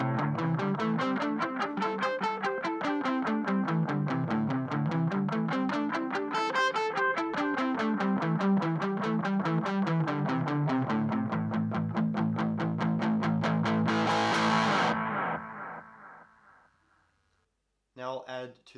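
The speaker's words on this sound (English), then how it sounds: "I'm going to turn the distortion on." An electric guitar runs through a distortion pedal on a pedal board, repeating a rhythmic riff with swelling echo repeats, steady and loud, then fading out near the end before a short burst returns.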